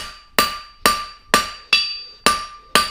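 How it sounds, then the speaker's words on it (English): A hammer strikes a horseshoe corking on a blacksmith's anvil in six evenly spaced, loud, ringing blows, each leaving a steady metallic tone that carries between hits. "I can either hit it downwards like that, or I can put it over the edge of the anvil and back it up"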